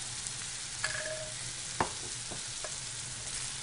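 Pasta being tossed with salt and black pepper for a smoked salmon dish: a soft steady sizzle under scraping and clinking utensil strokes, with a few sharper knocks near the middle, close and moderately quiet.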